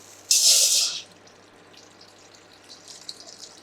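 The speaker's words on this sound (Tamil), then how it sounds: "இப்போது பாத்திரத்தில் தண்ணி ஊற்றிக்கலாம்" Water is poured into a cooking pot while making a herbal liver detox tea: a short, bright splash of pouring lasting under a second, followed by faint trickles and small clinks.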